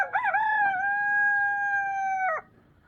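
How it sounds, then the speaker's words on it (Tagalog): A single long rooster crow at a pet market, loud and close, rising at the start and holding steady before breaking off abruptly, with no other sounds around it. "Ayan mga manok."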